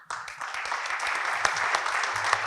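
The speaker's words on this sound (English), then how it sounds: "A round of applause, please." Audience applause at an executive round table on HR, a steady wash of many hands clapping that starts abruptly and holds at an even level throughout, with a few sharper individual claps standing out.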